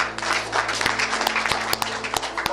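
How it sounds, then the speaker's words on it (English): Crowd applause at a political press event for Peter Obi, dense sustained clapping with sharp individual claps standing out, close and fairly loud, with a low steady hum underneath. "Another round of applause for him."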